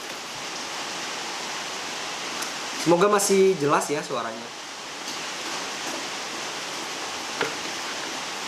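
Steady rain hisses evenly throughout as a continuous wash of broadband noise, and a person speaks briefly over it partway through.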